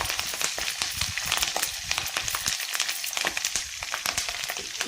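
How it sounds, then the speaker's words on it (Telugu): Spices sizzle with asafoetida in hot oil as a tempering for amla pickle, a steady close frying crackle with dense small pops and no voices. "దేనికైనా ఇంగు పోపు బాగుండాలండి ఈ పచ్చళ్ళకి ఇంగు పోపు లేకపోతే మంచిగా ఉండదు"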